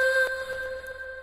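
A short, bright pitched tone with steady harmonics, an audio sample transposed up five semitones in Reason; one brief accent early, otherwise sustained.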